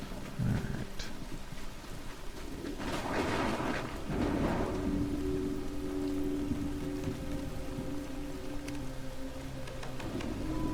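Rain falls steadily in the video game Soulmask, a constant hiss with a few heavier rumbling swells early on and faint tonal game sounds layered over it.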